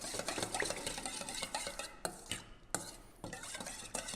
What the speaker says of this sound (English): Mix it through again.